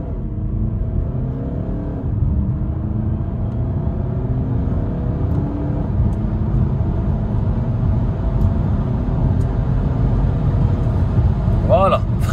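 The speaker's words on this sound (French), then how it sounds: "j'active le mode sport, ici, voilà, et on va faire un petit test d'accélération" A BMW X1 23d diesel in sport mode accelerating hard, its engine a loud, continuous low rumble that holds steady and builds slightly, with speech heard over it.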